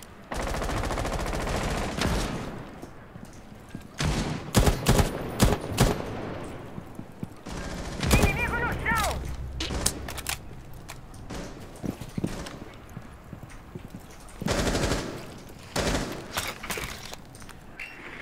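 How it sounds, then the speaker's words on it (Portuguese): Gunfire in Rainbow Six Siege, repeated bursts of rapid automatic shots and single cracks coming in clusters with short pauses between, loud and close, with some footsteps and no talking. "Mano, tão cruzando tiro no janelão aí, ô Max."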